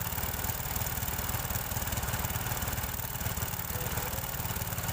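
A Honda Supra 125 motorcycle engine idles steadily and close by. The low, even putter runs unbroken for the whole stretch, with no voices over it.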